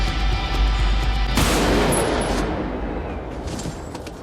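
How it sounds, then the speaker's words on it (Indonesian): A gunshot in a film scene, fired as Vincent shoots Michael dead from behind: one sudden loud blast about a third of the way in, followed by a long, broad rumbling decay. Low ambient noise comes before it. "lalu Vincent menembak Michael hingga tewas"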